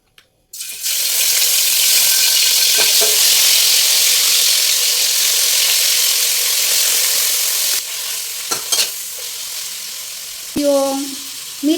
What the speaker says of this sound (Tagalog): Saka ko ilalagay yung pork.